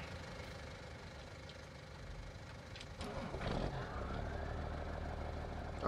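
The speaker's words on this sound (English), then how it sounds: "Oh, I love where that tractor sounds." A tractor engine in Farming Simulator 19 idles low and steady, then revs up and keeps droning at a higher pitch, heard close with no talking.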